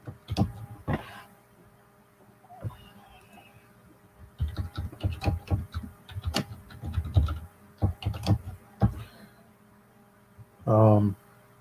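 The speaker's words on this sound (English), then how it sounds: "Sorry, I'm typing." Typing on a computer keyboard, scattered bursts of light rapid clicks and taps, close and uneven in rhythm, with a brief voice near the end.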